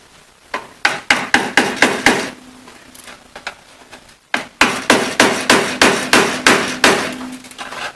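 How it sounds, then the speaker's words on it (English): Sharp metallic hammer blows drive a screwdriver to break loose the last small parts on a 1966 Mustang convertible during teardown, two bursts of steady strikes, about six then eight, close and loud. "So I'm going to use a screwdriver just to break these final little ones loose."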